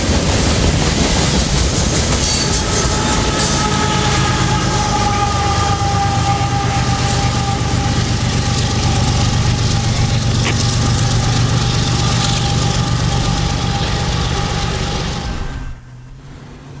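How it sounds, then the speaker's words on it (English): CSX freight train led by an ES40DC locomotive passing a crossing near Waycross, a loud continuous rumble with sustained horn-like tones and rail clatter, then abruptly dropping off at the end. "Leading this train would be a CSX ES40DC locomotive."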